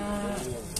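Cattle at a livestock market in Barda, a short low moo standing out over a steady, crowded background of animal and ambient noise.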